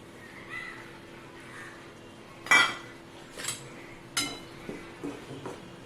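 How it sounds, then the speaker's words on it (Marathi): Wheat flour roasts in ghee in a pan while a utensil stirs it, giving a few sharp metallic clinks and scrapes spaced out over a quiet background. "परतून घेऊया आता आहे गव्हाचं पीठ"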